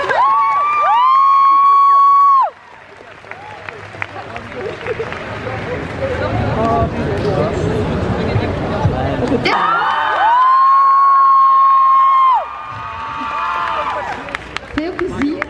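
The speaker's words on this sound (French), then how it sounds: "On peut les applaudir encore une fois" A crowd at the Made in Asia 2019 convention cheers, whoops and claps for the performing group, loud and sustained, framed by bursts of amplified music at the start and again later.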